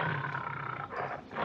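A tiger growls in a low, rough, continuous rumble, loud and close, swelling slightly toward the end with no talking over it.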